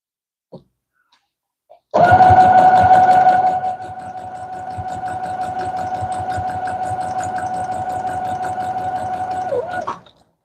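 A sewing machine stitches nine fabric pieces together, starting with a loud burst and then settling into a steady, close, continuous whirring hum for about eight seconds before stopping abruptly, with no talking.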